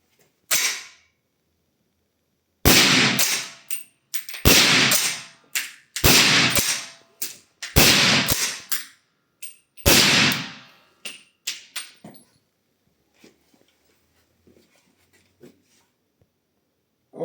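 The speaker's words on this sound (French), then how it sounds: "on va faire 5 munitions avec le silencieux AZ Ultra" Five suppressed shots from a CR58 rifle in .300 AAC fitted with an AZ Ultra silencer crack out at uneven intervals of one to two seconds, each a sharp, close report followed by short mechanical clicks.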